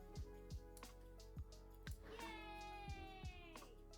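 A cat meows repeatedly, with one long drawn-out call near the middle, over a steady background hum and a few sharp clicks.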